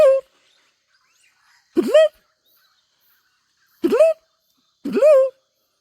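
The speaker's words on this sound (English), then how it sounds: "I love these birds, eh?" Four loud, close bird calls, harsh crow-like caws outdoors, spaced a second or two apart over otherwise quiet air.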